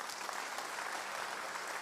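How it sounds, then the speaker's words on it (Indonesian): A congregation in church claps hard and continuously, a dense wash of hands heard briefly and evenly with no speech. "Tepuk tangan yang keras."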